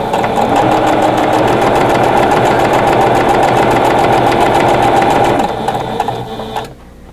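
A sewing machine sews a quarter-inch seam on a quilt block with a loud, steady, close motor hum and rapid needle rhythm, easing off and stopping near the end.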